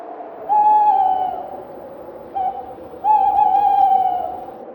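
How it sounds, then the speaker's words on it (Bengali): An owl hoots at night in an audio drama, giving a few clear, mellow hoots: one long call, a brief short one, then another long drawn-out hoot over a soft hiss. "পেঁচার ডাকে চমকে উঠল"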